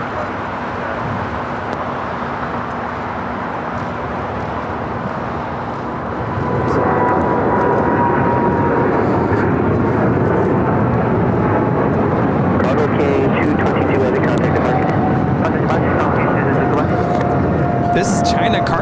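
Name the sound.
China Cargo Airlines Boeing 777 freighter taking off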